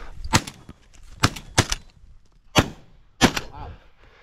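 Shotgun blasts ring out while hunting pigeons outdoors, five sharp, loud reports spaced unevenly over a few seconds, with quiet ambience and faint voices between shots.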